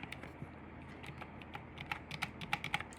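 Keys clack on a computer keyboard while code is typed, an irregular run of light, close clicks that grow busier and sharper toward the end, with no voices over them.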